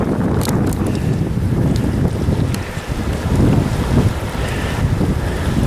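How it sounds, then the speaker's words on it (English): Strong wind blows steadily outdoors and buffets the microphone with a loud, constant rumble and gusty roar, with no voice. "Wind is helping me out quite a bit too."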